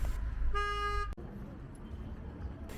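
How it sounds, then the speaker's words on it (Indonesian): Car horn from a wedding convoy in Turkey: one short, bright toot of about half a second, heard a little way off over low traffic rumble, with quiet background chatter. "mobilnya dibunyikan terus ya guys, klaksonnya itu pokoknya berisik banget."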